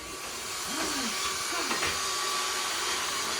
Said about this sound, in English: See, we have a nice vacuum cleaner.